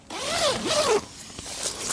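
A zipper on the side of a tent's inner door is pulled open in one quick close-up rasping sweep lasting about a second, followed by faint handling rustle.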